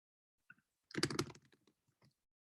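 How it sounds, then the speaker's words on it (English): A short burst of computer keyboard typing and mouse clicks, quiet and close, with a few isolated clicks before and after the main flurry; no one speaks. "pardon my clicking here for a moment"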